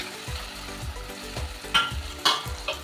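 Pabda fish frying in mustard oil with spices, with a steady sizzle under a rhythmic series of spatula scrapes and stirring knocks, fairly close.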